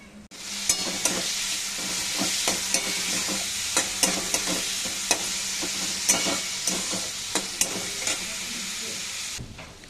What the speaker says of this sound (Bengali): দেখো সবজিগুলো সব ভাজা হয়ে গেলো